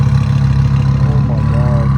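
Twin-turbo boosted Honda Civic engine idling at a car meet, a steady low rumble with a faint whine rising midway, loud and close without a break.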